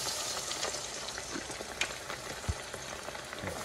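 Twenty-two catfish fillets frying in well-heated oil, a steady, dense crackling sizzle close by with a few soft pops and stirs, no voices.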